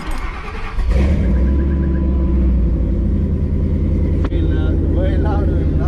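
A built car engine set up to handle 750 horsepower starts and runs at a loud, steady idle close by, a deep continuous rumble with a brief blip, while people talk over it.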